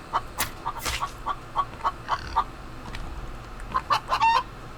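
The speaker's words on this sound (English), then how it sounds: "Chicken just daring me to pick it off." Chicken in a video game clucks in short repeated bursts, close and clear, with a few louder squawking calls toward the end and no talking.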